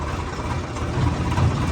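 A tractor engine chugs in third gear along a broken, rough road, a close, steady low throb for under two seconds with no talking.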